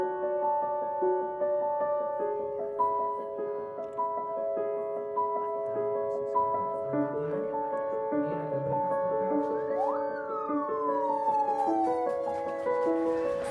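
Ambulance siren wailing steadily and loudly for the whole stretch, its tone sweeping and holding while a second rising-and-falling siren note cuts in near the end, with no talk over it.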